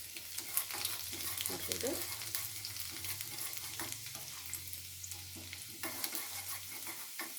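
Garlic frying in ghee for hotel-style dal, a steady crackling sizzle close up with repeated scraping stirs of the spoon, no voices.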